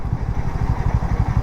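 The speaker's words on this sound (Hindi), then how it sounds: "40 के नीचे जब जा रही है ना तब थोड़ा सा वो इंजन स्टॉलिंग वगैरह का जो प्रॉब्लम है तब आपको यहाँ पर फील हो सकता है" A Harley-Davidson X440S engine lugs at very low speed in sixth gear, a loud, close, rapid low thudding pulse on the edge of stalling, with no voices over it.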